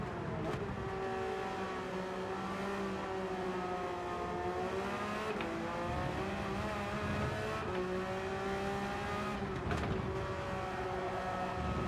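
Race car engine in Gran Turismo 7 revving steadily with repeated downshifts, its pitch rising and dropping in loud, continuous waves with brief shifts between gears.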